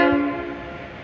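A locomotive-hauled train passing a station platform, its horn sounding loudly at the start and quickly giving way to a steady rumble of the train rolling by.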